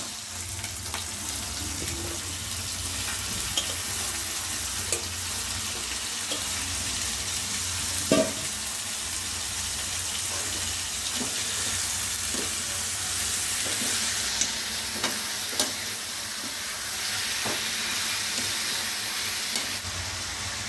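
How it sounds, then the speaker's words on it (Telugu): Ginger-garlic paste with tomatoes sizzling and frying in a pan for chicken curry, a continuous close hiss with occasional stirring scrapes and small pops throughout, no talking. "అల్లం చిల్లుగా పేస్ట్ వేసుకొని బాగా వేయించుకున్నామండి."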